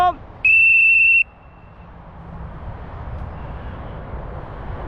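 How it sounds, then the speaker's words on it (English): Falconry whistle blown to recall a golden eagle outdoors: one loud, steady, high-pitched blast under a second long, then quiet open-air background with faint wind. "Get the whistle ready."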